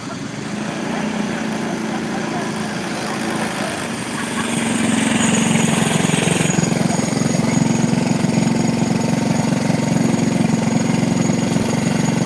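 Go-karts run on a short race track in Hanceville, Alabama, as a steady engine drone rolls on without a break and swells louder partway through, with no speech over it.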